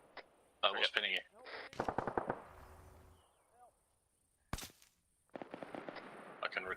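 Gunfire in a military video game: a few loud bursts of shots, then one sharp heavy blast near the middle, with scattered voices over the radio.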